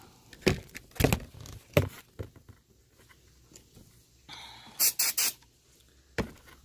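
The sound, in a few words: spraying throttle body cleaner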